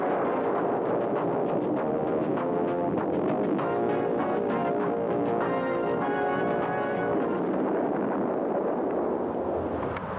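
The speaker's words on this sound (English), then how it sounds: "Missile tubes can be loaded, fired, and reloaded in seconds." Missiles fire from launch tubes in a steady, continuous roar of blast and rushing noise that holds loud and unbroken for the whole stretch, with no voices.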